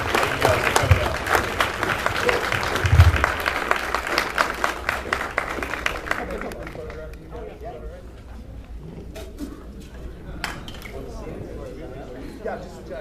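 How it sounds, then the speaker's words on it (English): An audience applauds after a film Q&A session at Fantastic Fest 2013, with dense clapping filling the first six seconds, then thinning to scattered claps and light chatter. "can we get a round of applause, please, for everyone up here for the film LFO?"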